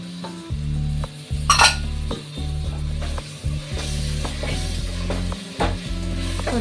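A ginger, garlic, coriander and green chili paste sizzles in a pan for prawn rice, with repeated scraping stirs of a utensil against the pan over a steady low hum.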